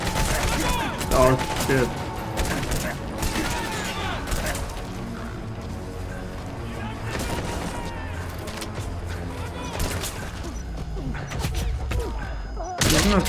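Bursts of gunfire from Metal Gear Solid V crack out repeatedly and irregularly across the scene, some loud and close, mixed with a player's occasional speech.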